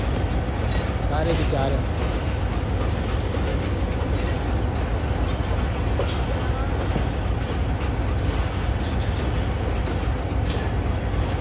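A train rolls into Karachi Cantt railway station with steady, loud rumbling of coaches passing close by, while a person talks over the noise.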